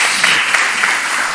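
Audience applause for the panelists at the closing event of an arts project, a steady, dense wash of many hands clapping close and loud throughout, with no talk over it.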